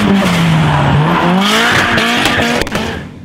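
A loud Ford Sierra Cosworth Sapphire racing exhaust roars and revs continuously, pitch sliding down then climbing as it accelerates, close by with no talking.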